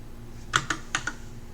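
Four quick keystrokes on a computer keyboard tap out in an uneven burst, clear and close, with nothing else around them.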